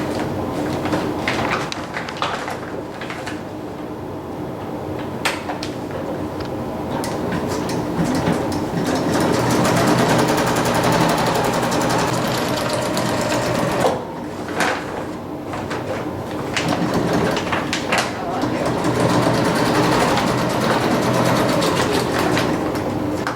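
A sewing machine stitching down the hem of a fabric tote bag, a long stretch of steady fast mechanical whirring and rattling with a couple of brief pauses, close and loud.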